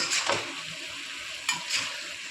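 Chicken gently stirred in a pan, with a bright, steady sizzle and two soft scraping sweeps of a spoon, close and loud with no speech.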